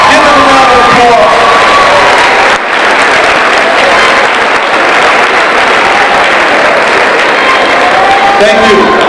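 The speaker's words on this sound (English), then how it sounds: "Let's stand on our feet, graduates, and give them a round of applause." Graduation crowd at a 2018 high school ceremony on its feet, clapping loudly with cheers and whoops, with voices mixed in throughout.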